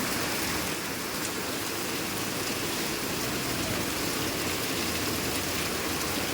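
Heavy monsoon rain pours down on a Mumbai street, a dense, continuous hiss of water hitting surfaces with no break, steady and loud from start to finish.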